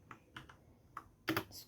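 Short bursts of computer keyboard typing while entering a shell script, a few isolated keystrokes followed by a louder rapid cluster of clicks near the end, close and dry with no talking.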